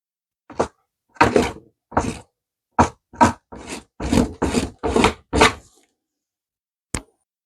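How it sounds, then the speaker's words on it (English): Acrylic paint is scraped off budget paper in about ten short, rough rasping strokes, close and fairly loud, in an uneven rhythm with quiet gaps and a final isolated scrape after a pause. "Not much of it is scraping away."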